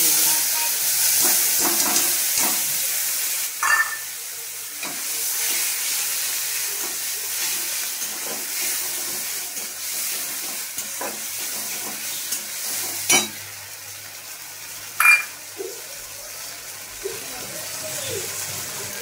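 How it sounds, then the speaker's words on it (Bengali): Pieces of katla fish fry in hot oil with a steady, bright sizzle and hiss that runs throughout, broken by a few sharp clinks and scrapes of stirring close by. "বাকি মাছগুলো এবার মা ভেজে নিচ্ছে"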